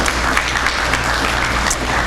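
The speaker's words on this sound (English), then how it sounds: "Give her a round of applause." Loud, dense applause from an audience greeting a city council member, steady clapping throughout with no voices over it.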